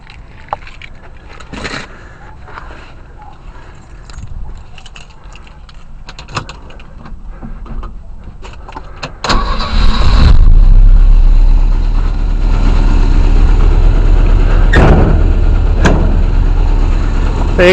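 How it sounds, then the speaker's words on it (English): A 1968 Volvo 122s wagon on stock SU carburetors cranks and fires up with no throttle, jumping from quiet to a loud, steady, close-up idle that holds to the end. "I'm just going to start the motor here for you"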